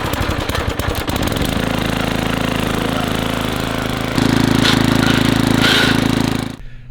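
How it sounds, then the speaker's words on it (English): Small gas engine of an old garden tiller with faulty transmission, sputtering through a rough start, then running loud and steady with a rattling chug, growing louder midway before dying away. "So the engine runs,"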